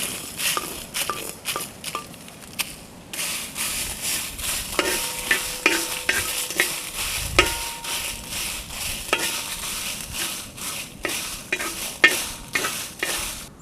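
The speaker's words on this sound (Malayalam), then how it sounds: "മസാലയ്ക്ക് കുറച്ച് സാധനങ്ങൾ വറുത്തെടുക്കാനുണ്ട്" Kashmiri chillies, dried red chillies and whole coriander seeds dry-roasting in a pan. A spoon stirs them in a quick, repeated rattle with a light, steady crackle underneath, close and fairly quiet.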